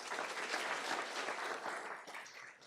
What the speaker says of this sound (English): Another round of applause for Brody.